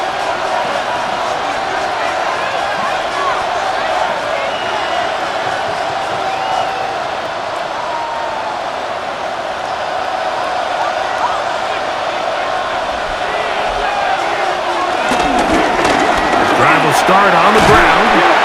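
Stadium crowd roar in Madden NFL 26 on PS5 during a simulated Cincinnati Bengals versus Green Bay Packers game, a steady broad murmur that swells louder near the end, running under a commentator's talk.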